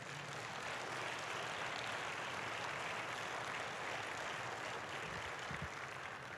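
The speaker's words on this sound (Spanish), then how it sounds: "Dale el aplauso a Dios" Church congregation applauding a pastor's sermon, a dense, steady wash of clapping that fills the room at even loudness throughout, with no voices standing out.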